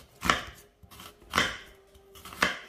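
A knife scores thin cuts into a halved onion on a cutting board, making three crisp, close knocks about a second apart, with quiet between them.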